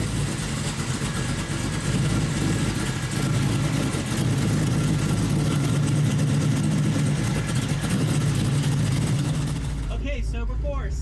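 A hot rod with an EFI swap replacing its carburetor, out on the road, gives a loud, steady engine drone that holds throughout and cuts off abruptly near the end.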